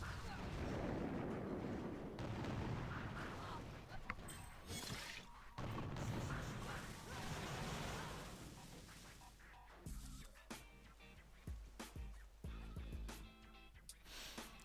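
Rocket launchers fire in the video game Boom Beach, with a run of loud, rumbling blasts followed by sharper, separate impact hits toward the end.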